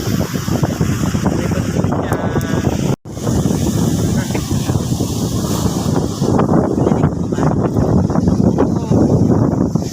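Strong ocean waves at RLR Beach crash and roll continuously under heavy gusting wind buffeting the microphone, loud and close, with voices talking intermittently on top.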